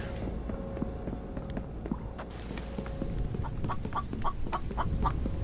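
A rock chicken in the survival video game The Infected clucking in short bursts, several rhythmic clucks rising toward the end over a low background hum and faint footsteps.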